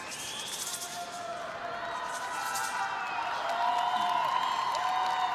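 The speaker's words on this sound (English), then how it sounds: "it's not only his own team that's cheering for him too" A crowd at a wushu championship cheers and whoops for an Indonesian athlete, a steady wash of voices that swells toward the end, with some clapping and commentary underneath.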